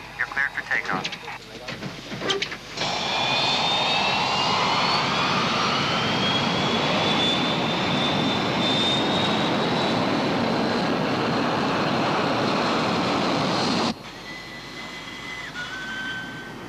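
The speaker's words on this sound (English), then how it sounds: "Obviously, we'll be using maximum thrust for takeoff" An airliner's jet engines roar at maximum takeoff thrust in snowy conditions: a loud, sustained broadband roar with a rising whine that holds for about eleven seconds before cutting down, with brief cockpit sounds before and after.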